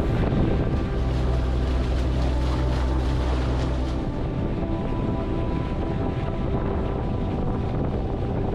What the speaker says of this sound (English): in his boat with the outboard motor